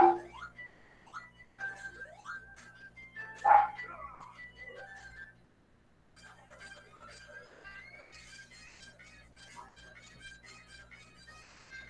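A dog barks, yips and whimpers in a run of sharp calls during an indoor orofacial myotherapy class, then goes quiet while voices carry on in the room.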